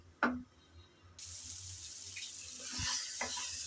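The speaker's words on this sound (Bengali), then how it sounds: "আমি নেড়ে চেড়ে মিশিয়ে দিলাম" A sour mango curry is stirred and fried in a pan: a sizzling hiss starts suddenly and holds, with a few spoon scrapes and soft clinks against the metal and no talking.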